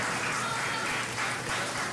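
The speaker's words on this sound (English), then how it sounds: "politely applauding like it's Crofts" Polite applause from a wrestling crowd during a match, a steady patter of many hands clapping without any cheering.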